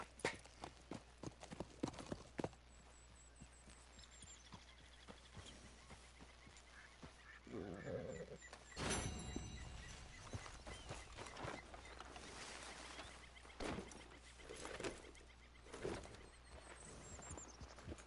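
Horse hooves clip-clopping in Red Dead Redemption 2, a steady run of light hoofbeats over quiet game ambience, with a louder stretch of movement partway through; no talking.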